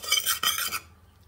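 A metal spoon stirs cooking oil, turmeric and salt for homemade butter popcorn in a pot, giving a short, close scraping swirl with a brief clink before fading to quiet.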